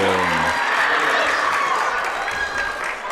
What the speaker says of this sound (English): Big cheers from the big cheering section over there.